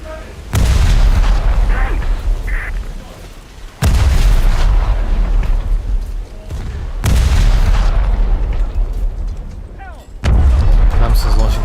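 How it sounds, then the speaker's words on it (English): A Clemson class destroyer firing torpedoes in a naval video game, a series of four loud deep booming launches spaced a few seconds apart, each followed by a rumbling tail, with a voice talking over them. "Clemson's launching torpedoes"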